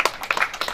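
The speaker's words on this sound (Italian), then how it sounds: "Applauso spontaneo per..." Spontaneous audience applause at a presentation event in Diamante, a short burst of scattered clapping from a live crowd, moderately loud with no talk over it.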